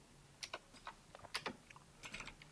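Fingers tap out Python code on a computer keyboard in a quiet room, soft close keystrokes falling in small irregular clusters over about two seconds, with no talking.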